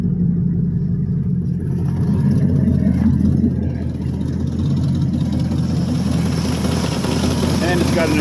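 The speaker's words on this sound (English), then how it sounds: "As you can tell, throttle response is almost instant." A carbureted 5.7 engine with an exhaust leak runs loud and close, a steady, dense rumble of continuous engine noise throughout, with little change in level and no clear speech over it.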